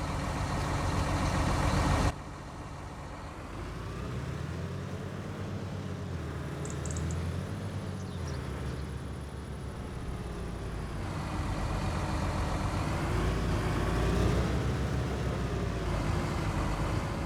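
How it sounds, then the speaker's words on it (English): A JCB Fastrac tractor engine in the Farming Simulator video game idles with a steady low rumble, then settles into a continuous drone that swells slightly toward the end, heard alone without talk. "we're going to grab the fastest tractor in Farm Simulator. Yeah, the JCB WFT."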